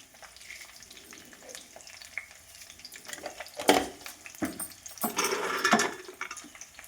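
Tempering seeds and cumin hit hot oil for a tamarind pulihora, sending up two loud crackling sizzle bursts over a quieter background hiss, with no voices.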